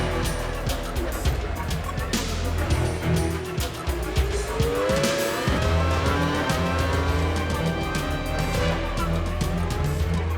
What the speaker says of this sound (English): Montoya fights off the attentions of Schumacher, but then sacrifices his race